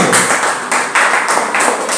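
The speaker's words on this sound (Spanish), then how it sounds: "Denle un aplauso." A church congregation applauding, loud continuous clapping that swells and dips slightly over a couple of seconds.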